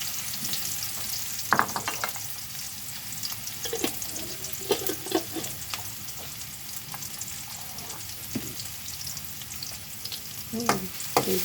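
Garlic and onion fry in a pan for beef with broccoli, giving a steady soft sizzle with occasional stirring clatters and utensil taps throughout.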